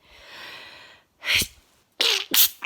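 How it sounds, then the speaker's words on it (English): A person sneezing repeatedly: a drawn-in breath, then a sharp sneeze followed by two more quick, loud bursts close to the mic. "Back inside again, and the sneezing started again."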